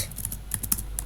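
Rapid keystrokes on a computer keyboard while code is typed for a Godot wave shooter game, a close, uneven run of light clicks with no talking.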